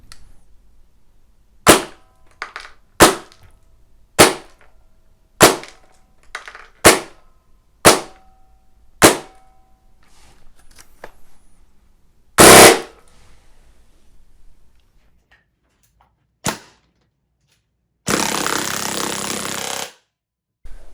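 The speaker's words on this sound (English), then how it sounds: "the gun is shooting between 265 and about 270, 275 FPS on semi-auto, and on full auto there was a little bit of an FPS dip" An airsoft gun on an 11.1-volt LiPo battery is fired through a chronograph. Sharp single semi-auto shots ring out at a steady pace, followed by a short rapid burst and then a sustained full-auto stream, all loud and close.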